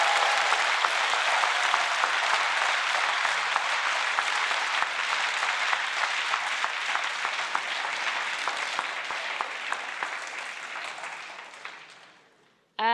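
Sustained applause fills a European Parliament plenary chamber, a dense steady clapping from a large room that holds loud for about twelve seconds, then tapers off and stops abruptly.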